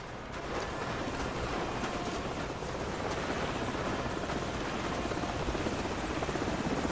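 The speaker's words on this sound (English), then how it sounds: "Enemy helicopters." Enemy helicopters in the Call of Duty Modern Warfare campaign drone with loud, continuous rotor chop, a steady dense roar filling the whole stretch with no talk.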